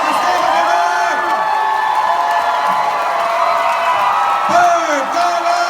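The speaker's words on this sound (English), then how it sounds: "I want you to make a lot of noise for our panelists that are here with us today." A convention hall crowd at a New York Comic Con film panel cheers, whoops and shouts for the panelists, a loud roaring mass of voices with cries rising above it and little distinct clapping.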